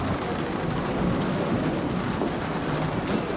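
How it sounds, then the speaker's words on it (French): Steady rain falls continuously during a street outing at an outdoor music festival in June, a dense, even hiss with a low rumble underneath, close and constant with no voices. "Comme il pleut"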